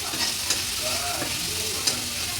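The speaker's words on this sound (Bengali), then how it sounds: "এখন আস্তে আস্তে হয়ে যাচ্ছে মশলা কষানো" Spice paste of green chili paste and turmeric sizzles steadily in a hot pan for a Bengali bottle gourd leaf dish, a continuous close hiss with a few soft stirring scrapes and clicks.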